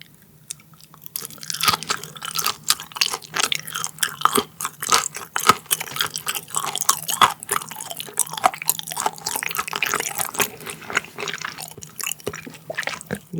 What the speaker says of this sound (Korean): 자, 그러면 얼른 먹어보도록 하죠. 얇게 썬 거 먼저.